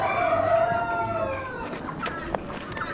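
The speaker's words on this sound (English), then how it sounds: "Got another rooster." A rooster at a poultry auction lets out one long crow that fades, followed by scattered clucks and clicks from other birds nearby.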